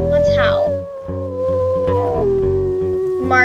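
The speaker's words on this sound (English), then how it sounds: "Here, you wanna howl? Let's howl." A wolf howls in the video game WolfQuest 3, a long wavering tonal howl sliding down in pitch with a brief yip, heard close and loud alongside the game's background audio.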